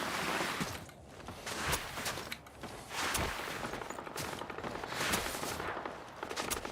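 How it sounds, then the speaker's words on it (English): Rapid bursts of video game gunfire, repeated automatic shots coming in clusters, fairly loud and close with brief lulls between volleys. "There's some gunfire going on over here"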